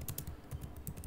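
Quick typing on a computer keyboard, a close run of light, fast key clicks in an uneven rhythm, quiet and alone without speech.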